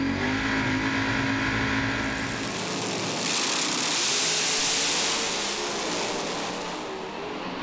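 Doorslammer drag racing cars launch down the strip at Speedweek, a loud sustained engine roar that swells into a broad, harsh blare as they accelerate away.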